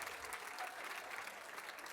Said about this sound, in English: Give yourselves a big round of applause for that one.